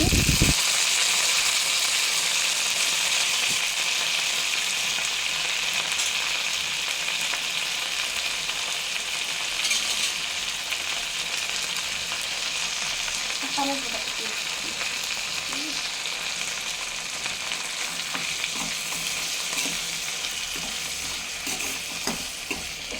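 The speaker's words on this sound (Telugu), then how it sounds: "ఇప్పుడు పోపు ఫ్రై అయిపోయింది కదా మునగాకుని వేసేసుకున్నాను" Drumstick leaves (munagaku) fry in a tempering in a pan, giving a steady, close crackling sizzle that holds throughout with faint stirring and no talk.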